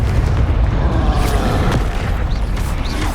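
Fiery Confringo spell blasts in Hogwarts Legacy, a dense, loud run of booming bursts and crackling impacts over a constant roar, several sharp hits landing about a second apart.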